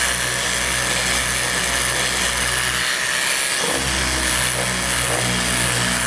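A small Festool power sander works across bandsaw-marked wood against the grain on a patio-cover build, a loud continuous motor whir with a short dip near the middle before it resumes, no talking.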